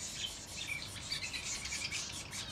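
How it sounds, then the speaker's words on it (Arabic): Bulbul chicks call from a nest basket in an aviary while their mothers feed them, a continuous faint chorus of high chirps and trills, with no talk. "هاي امهاتهم جاي تزقهن ويعيطن عياط"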